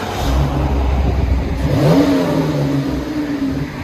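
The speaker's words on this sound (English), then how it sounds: "So this just has a resonator, rear resonator delete. We'll let you guys hear it" A 2016 Dodge Durango Limited Flex Fuel with a 3.6L V6 and a rear resonator delete revs loudly close up, the exhaust rising into a climbing rev around the middle before settling back to a steady, throaty drone.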